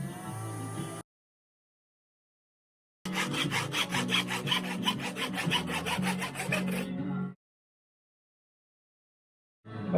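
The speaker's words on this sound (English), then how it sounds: "This is a split tip drill bit, so it's easier to do this kind of thing." A split tip drill bit grinds into a part during fuel system work on a TDI engine swap, two bursts of harsh, rasping cutting separated by silence, the second long and steady.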